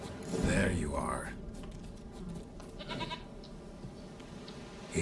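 A goat in a video game gives a brief bleat amid game ambience, with people talking quietly over and around it.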